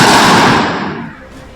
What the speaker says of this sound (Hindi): एक के बाद एक 4 गोली चलने की आवाज आती है।